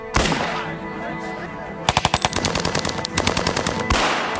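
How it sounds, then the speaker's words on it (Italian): Rapid bursts of automatic gunfire crack out in close, loud volleys after a quieter stretch, with sharp repeated shots echoing. "Dottore, stanno sparando."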